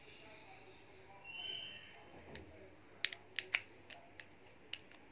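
Metal motor head of a Philips Multigroom Series 3000 MG3730/15 trimmer snapped back onto the body: a few sharp, quiet clicks in quick succession against a faint background.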